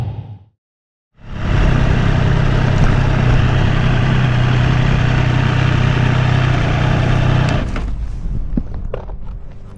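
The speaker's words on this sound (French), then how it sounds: "mon choix s'est porté sur cette moto-ci, donc la Street Triple RS" A red Triumph Street Triple RS motorcycle idles close by with a steady, loud engine rumble that holds for several seconds before the level drops and the sound turns rougher and more uneven.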